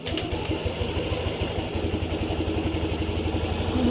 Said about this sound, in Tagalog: papakinggan ulit natin ang andar ng makina